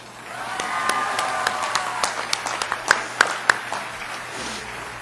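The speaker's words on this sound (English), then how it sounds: "Now you may applaud." Audience applause at a 2002 college commencement ceremony for the College of Letters, Arts, and Social Sciences, a sustained burst of many hands clapping that swells and then thins out into scattered louder claps.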